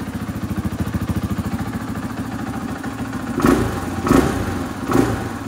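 A stock 2023 KTM 500 EXC-F dual sport motorcycle runs nearby, its single-cylinder engine thumping in a rapid, even idle. Three sharp throttle blips follow near the end.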